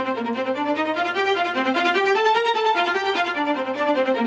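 Sampled orchestral strings, violins doubled by violas an octave below, play a sustained, legato cinematic melody with smooth rising and falling lines, steady and clear with no talk.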